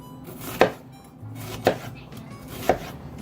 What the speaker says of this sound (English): So when you're cutting an onion